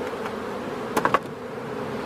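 Honey bees buzz around an opened hive during a spring colony inspection before a queen is introduced, a soft continuous hum with a few brief closer buzzes passing near.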